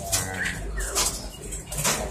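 Bali mynas in a breeding aviary colony, with several short calls and whistles from birds in the enclosure, some near and some farther off, over a background of faint rustling and clatter.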